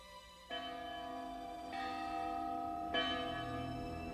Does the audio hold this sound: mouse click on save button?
no